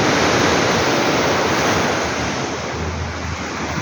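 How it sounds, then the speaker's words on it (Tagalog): Big ocean waves break and wash onto the shore in a loud, continuous roar of surf, with wind buffeting the microphone throughout and no voices. "Kasi malaki yung alon"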